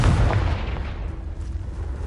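The Confringo blasting spell from a Hogwarts video game sets off a loud, deep explosive boom that starts at once and then rumbles and fades over about two seconds, with no talk over it.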